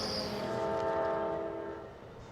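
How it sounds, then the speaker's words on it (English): A train passes near West Glacier, a low rumble of railcars under a sustained horn-like tone, fairly faint and distant, tapering off toward the end. "I hear the rumble of trains throughout West Glacier"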